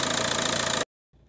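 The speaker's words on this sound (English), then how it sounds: "I'm not too sure if you could hear too well on the engine running out there" A car engine idles steadily with a dense, even drone for most of the moment, then cuts abruptly to silence before a faint low rumble returns.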